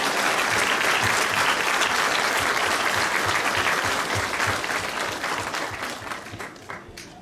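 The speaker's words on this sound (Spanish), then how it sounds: "Demos un fuerte y cariñoso aplauso a la Santísima Virgen María" A large crowd at a religious fair in La Laguna, Tlahuiltepa, claps together in dense, sustained applause that stays loud for several seconds and then gradually fades.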